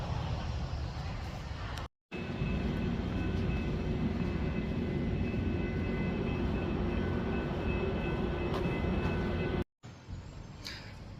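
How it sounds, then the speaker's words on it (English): A train passes close by on railway tracks heading toward Seattle, a steady heavy rumble and roar that fills the whole stretch, broken only by two brief cuts. "Well, that was my train."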